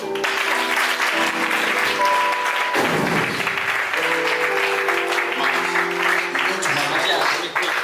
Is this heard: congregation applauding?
yes